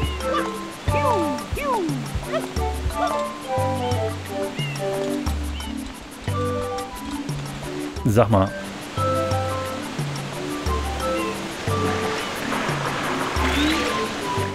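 A rushing waterfall in Super Mario Sunshine gives a steady hiss beneath bouncy game music and sound effects, with a person speaking briefly over it.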